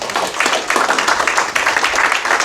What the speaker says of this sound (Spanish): Le damos un buen aplauso al Señor en esta mañana